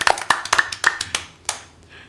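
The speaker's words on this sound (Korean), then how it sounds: "여러분 다시 한번 우리 박수 한번 칩니다." Scattered claps from a small audience at an outdoor political rally, a handful of sharp hand strikes spaced unevenly over about two seconds, close and moderately loud, with no talking.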